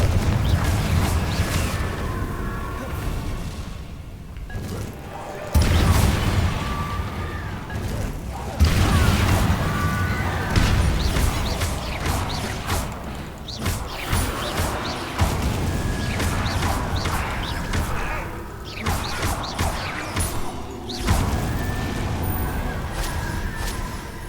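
Confringo fire-blast spell explosions in Hogwarts Legacy, a series of loud booms and crashes at irregular intervals amid clattering combat noise, with a voice speaking in places.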